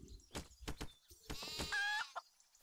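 A few short sheep bleats from the video game Craft The World, soft and clear in a quiet scene with no talking.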